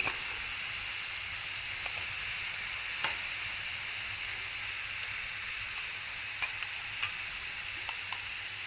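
Spiced mixture with asafoetida, salt and chilli powder being stirred in a pan under a steady sizzle, with a few faint scrapes and taps of the spoon now and then.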